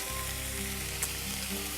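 Braised green beans fry in a hot pan, giving a steady, close, even sizzle with no talking.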